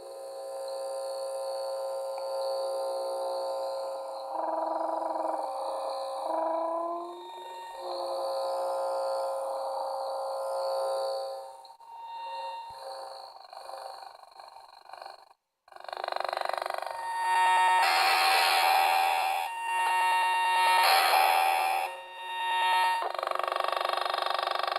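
Warbling, shifting electronic tones and whines come from the speaker of a modified Sperry wire tracker receiver, varying in pitch and texture over a long stretch with a brief dropout midway, steady and moderately loud without talk.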